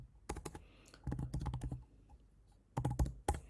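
Quick bursts of typing on a computer keyboard, clustered clacks in three short runs with pauses between, close and fairly quiet in a still room.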